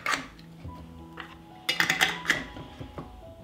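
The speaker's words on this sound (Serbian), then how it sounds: "i tegle zatvaram sa čistim i novim poklopcima." Glass jars being closed with clean new metal lids, giving a few clinks and a brief rattle of glass and lid, close and fairly quiet, with no talking.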